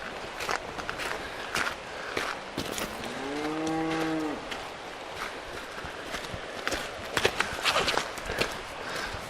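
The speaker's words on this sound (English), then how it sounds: "when you see lovely cattle like this." Highland cattle in the Scottish Highlands give a single long, deep moo midway, with footsteps crunching and scattered rustling around it outdoors.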